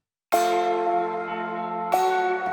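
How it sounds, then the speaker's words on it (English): Bells ring out alongside a harpsichord carrying the main theme of an orchestral metal arrangement, entering sharply with a sustained, shimmering tone and struck again near the end, loud and without voices. "we have bells and harpsichord playing the main theme again"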